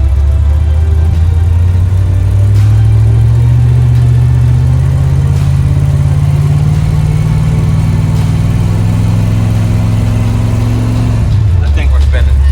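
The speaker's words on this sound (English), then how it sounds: "Just hold the brake and see what you can do until she starts spinning." A Ford Mustang held on the brake revs hard as its tires spin on wet pavement, making a loud, continuous engine drone that climbs slowly in pitch and then drops sharply near the end.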